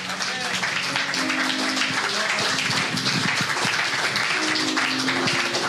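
A church congregation claps together in sustained, dense applause that holds at an even level throughout, with voices audible beneath the clapping.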